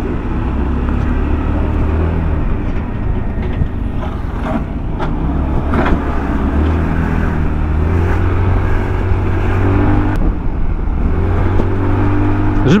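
A 2024 Austin ST Max 200cc motorcycle engine runs steadily up close, a continuous low rumbling drone with faint ticking on top and no talk.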